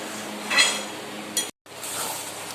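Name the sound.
meat being sautéed in a pot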